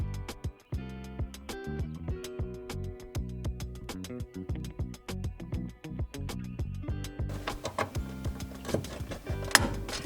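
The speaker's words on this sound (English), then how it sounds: "we're gonna go ahead and tighten up the 6 screws back in place" Screws being tightened back into the fuel pump housing of a Nissan 350Z or Infiniti G35, a busy run of close mechanical clicks, ratcheting ticks and metallic taps with a sharper clack near the end.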